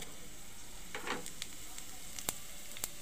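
Cumin and mustard seeds sizzle in oil in a pan, a quiet steady crackle with a few sharper pops and spatters standing out above the low frying hiss.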